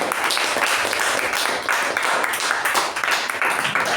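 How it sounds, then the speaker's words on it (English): Audience at a club meeting applauds: dense, continuous clapping from a roomful of people, loud and steady throughout. "let's give a round of applause to Table Topic Master, President, SAA, and Master Ceremonies"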